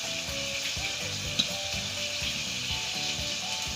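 Chilli sauce with tomato ketchup and mushrooms sizzles in a pan as it is mixed, a steady hiss with soft repeated scraping strokes, heard alone at moderate loudness.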